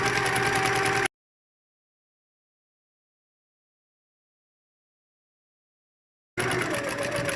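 A sewing machine stitches slowly around the corner of a lined messenger bag in two short, close bursts of motor hum, separated by a long stretch of total silence.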